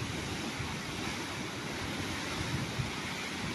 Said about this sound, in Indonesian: Tapi ombaknya tidak tinggi sih ini.